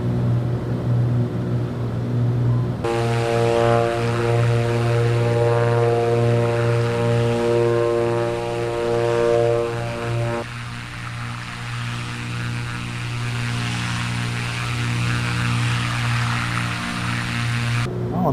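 An airliner in Microsoft Flight Simulator 2024, flying over Japan, lowers its flaps and landing gear. A loud, steady engine drone with layered tonal whines shifts pitch partway through and runs continuously with no talking.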